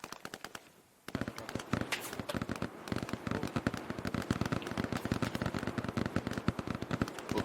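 Sustained automatic gunfire, heard as a long rapid stream of sharp cracks at a fairly even rhythm, starting abruptly after a brief quieter moment and continuing steadily at moderate distance, with no talking.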